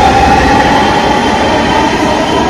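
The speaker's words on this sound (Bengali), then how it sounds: "তারপরে ট্রেনটি আবার দ্রুত গতিতে প্ল্যাটফর্ম থেকে বের হয়ে গেল।" A Dhaka metro train pulls out of a station platform, a loud, steady rumble and rail hum with a whining tone that holds throughout, close by, with no voices.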